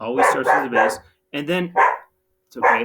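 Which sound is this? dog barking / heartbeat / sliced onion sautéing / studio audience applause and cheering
dog barking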